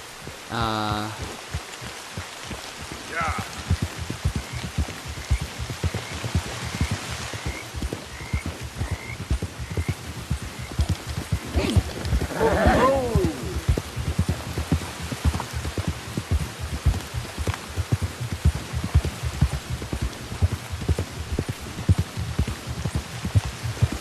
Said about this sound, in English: Has to be pouring rain too, which is just lovely any day.